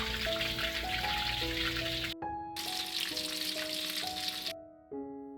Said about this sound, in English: If the oil sizzles like this, that means it's ready for frying